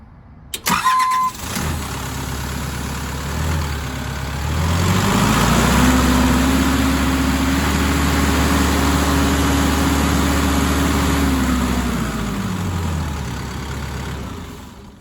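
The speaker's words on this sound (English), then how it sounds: "We're gonna go ahead and start it" A Case CX160B excavator's diesel engine cranks with a click and a chime, catches, then revs up into a loud, steady low rumble before easing back to idle.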